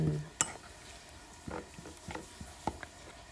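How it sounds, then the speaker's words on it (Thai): Food with fermented fish sauce stirred in a pot, with a few scattered clinks and soft scrapes of a spoon against the pot, brief and moderately quiet with no talk. "น้ำปลาร้าใส่ไปแล้วแล้วเราก็จะคนให้เข้ากัน"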